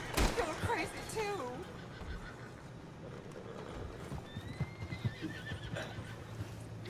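Horse in Red Dead Redemption 2 whinnies and neighs near the start, with clip-clop hoofbeats scattered through the rest amid game ambience and some voice sounds.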